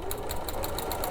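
A sewing machine stitches a weekend bag, running steadily and close with a fast, even mechanical whir and no talk.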